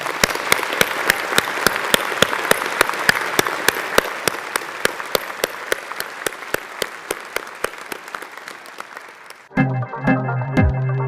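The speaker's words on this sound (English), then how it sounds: "let's all of us applaud these wonderful individuals for what they've achieved today" An audience at a Swinburne University of Technology graduation ceremony applauds, a steady wash of clapping with sharp rhythmic claps running through it, fading before music begins near the end.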